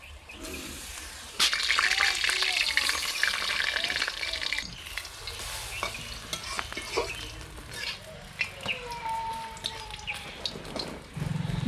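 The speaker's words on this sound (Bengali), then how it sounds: "পরের বড়াগুলোও আমি এইভাবে ভেজে নিচ্ছি।" Bok phool (vegetable hummingbird flower) fritters fry in hot oil, giving a steady bubbling sizzle with occasional scrapes and stirring clatter in the pan, the frying surging louder partway through and continuing up close.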